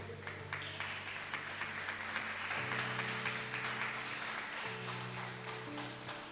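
A church congregation applauds during a service in a steady, dense wash of clapping, with sustained organ or keyboard chords playing underneath throughout.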